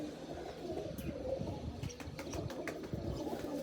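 A pigeon coos softly a few times amid low background murmur, close but gentle, with faint chirps scattered through.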